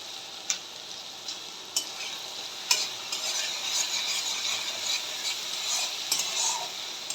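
Soybean curry with coriander powder sizzles gently in a pan, a soft continuous frying hiss broken by occasional light scrapes and taps of the stirring spoon, with no talking.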